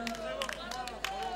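A savate boxing crowd applauds as a fighter is introduced, scattered clapping and cheering under a loud announcer's voice in a reverberant hall.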